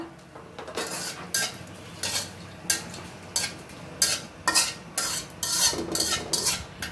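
Cumin seeds, dried chilli and bay leaf fry in hot oil for a taro dish, with bursts of sizzle and repeated scraping of a spoon against the pan, close and alone without talk.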